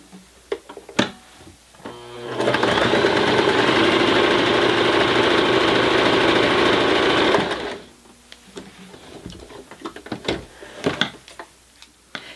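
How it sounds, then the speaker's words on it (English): A beginner's sewing machine stitches through three quilted layers of cotton fabric and cotton batting, a loud, steady mechanical whir running for about five seconds, framed by quieter handling clicks and taps before and after. "here is another sample to show you how it stitches through multiple layers"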